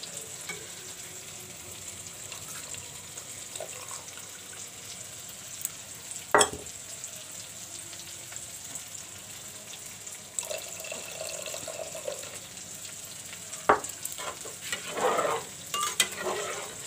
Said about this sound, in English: Now I will put the tamarind water in the daal.